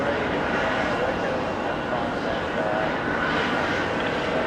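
Delta Airbus A330-200 airliner arriving at JFK on a flight from Athens, a steady, broad engine roar filling the whole stretch at constant loudness, with a voice talking faintly underneath.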